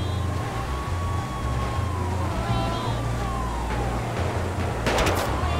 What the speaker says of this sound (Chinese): 这警车好多！